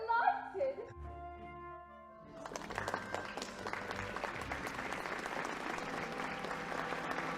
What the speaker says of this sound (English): The crowd applauds the president.